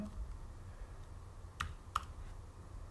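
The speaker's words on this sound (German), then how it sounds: "Man hört die Tastatur" Computer keyboard keys click faintly at a desk, a few scattered taps spaced out over near-silence, with no talking.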